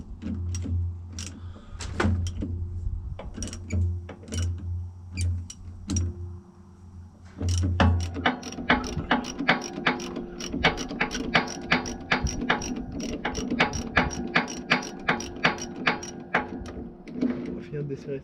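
A ratchet loosening a part on farm machinery during field preparation, repeated rapid clicks near the mic in a steady run, over an engine hum at the start.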